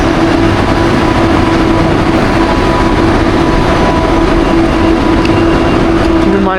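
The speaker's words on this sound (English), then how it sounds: "This is the train here" An airport rail train runs toward KL Sentral in Kuala Lumpur late at night, its loud, continuous rumble and rattle filling the car without a break.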